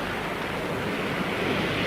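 Steady surf of sea waves rolling in at the tide, a continuous broadband wash with wind noise over the microphone, loud and unbroken throughout with no voices.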